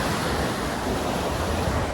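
Seawater rushes into a small rocky gorge at a shore, a loud, dense, continuous roar of surging surf and churning water that stays close and unbroken.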